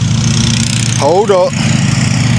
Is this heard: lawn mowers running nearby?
yes